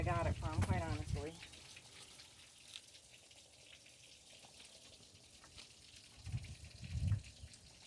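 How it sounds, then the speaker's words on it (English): Low, steady gurgling water drains from a 1996 GMC Sierra 1500 pickup throughout, with brief talking at the start and a few murmured words near the end. "So the water's draining out."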